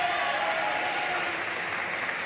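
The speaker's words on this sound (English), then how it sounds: "Big crowd for the Generals, and they are letting the other team know." A big crowd roars at an intramural co-rec basketball championship game, its dense, sustained cheering filling the gym at a steady level.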